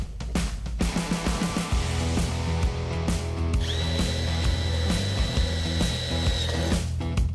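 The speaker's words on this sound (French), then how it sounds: "Karl fixe le seuil avec les vis appropriées." A power driver whirs in repeated bursts, winding up and slowing as screws bite into a classic Mini's sill, close and loud, with a sustained high whine through the middle and brief stops between screws.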